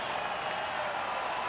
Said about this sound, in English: This crowd has come alive again.